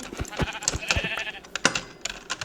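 In Minecraft version 1.12.2, a sheep bleats among quick clicky game sounds and scattered tapping, brief repeated bursts at moderate volume with no talk over them.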